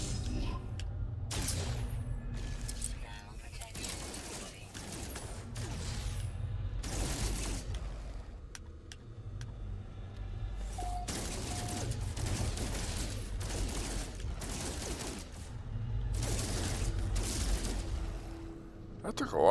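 Weapon fire in the No Man's Sky video game: repeated bursts of gunfire with booming low thuds, spread across the stretch at a moderate level, with a continuous background hum and a voice speaking occasionally.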